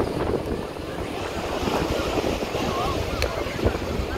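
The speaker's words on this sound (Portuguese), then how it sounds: "Tá ventando bastante aqui, pessoal, hoje." Strong wind roars and buffets the microphone steadily throughout at Praia de Iracema and Ponte Velha in Fortaleza, Brazil, with a rough, gusty rumble like surf.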